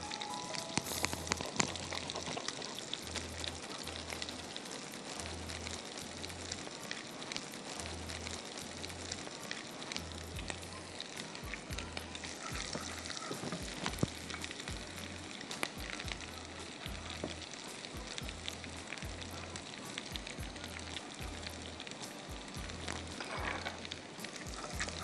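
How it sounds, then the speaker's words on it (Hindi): Garlic frying in oil, with crushed red chillies tossed in, gives a steady broadband sizzle and crackle that runs without a break for about 25 seconds, with a faint low rhythmic thumping underneath. "ये हमारा गार्लिक हल्का सा ब्राउन होगा। हम इसमें डालेंगे कुटी हुई लाल मिर्चें"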